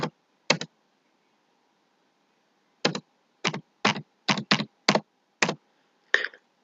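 Keys clacking on a computer keyboard while a mobile number is entered into a Microsoft Word form, with a few isolated taps followed by a quick run of about eight crisp, evenly spaced keystrokes in a quiet room.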